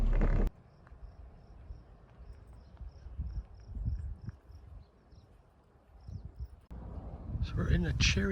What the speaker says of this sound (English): So we're in a cherry orchard.